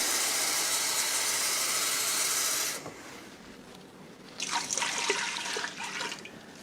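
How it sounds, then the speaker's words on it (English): Water is poured into the bottom of a cooker while making chicken cordon bleu: a loud, steady splashing pour for almost three seconds, a quieter pause, then more bursts of trickling and splashing. "I put some water in the bottom."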